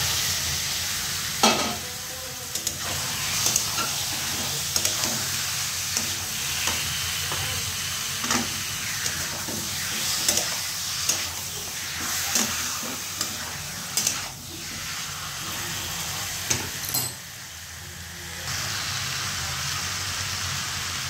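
Chicken browns with spices in a pan, a continuous sizzle and crackle with scattered spatula scrapes and clinks throughout, fairly close and steady.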